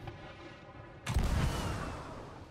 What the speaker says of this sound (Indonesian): Dia juga lagi ngetes tembakan tuh.